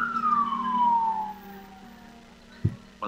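A wailing emergency siren, presumably an ambulance carrying patients to a hospital, sweeps down in pitch and fades into the distance, followed by a couple of short knocks.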